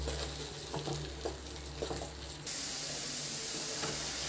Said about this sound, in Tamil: பீட்ரூட்டு நல்லா வதங்கி வரட்டுங்க